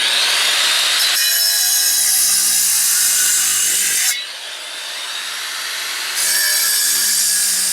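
A power tool cutting through a stucco and tile wall, a loud continuous high grinding whine that drops briefly mid-way and then resumes at full strength, close up.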